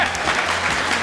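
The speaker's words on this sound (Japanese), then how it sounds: "でした、拍手" Brief burst of steady applause from a small group cheering a team in a timed eating challenge with a 3 kg giant parfait at an AEON food court.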